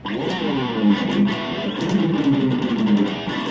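An electric guitar on a Busker BLC-300 with new pickups, played through the rear pickup with heavy distortion, sounds as a dense, sustained crunchy tone with picked chords for a few seconds, alone and without talking.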